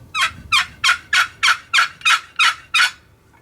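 A short wooden box call for turkey hunting rasps out nine evenly spaced, bright yelps in a steady rhythm, close and clear, with no talking over it.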